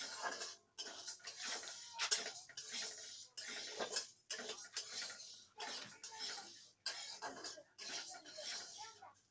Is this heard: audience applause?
no